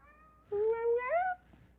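One clear, drawn-out cat meow rises in pitch at the end. It is heard close and alone, over a faint, quiet background.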